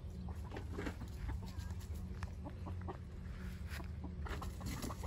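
Chickens cluck in a rural coop area while people try to catch them, with soft clucks and calls scattered over steady background noise, fairly quiet and somewhat distant.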